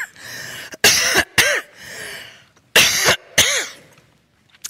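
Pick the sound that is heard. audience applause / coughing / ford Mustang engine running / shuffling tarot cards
coughing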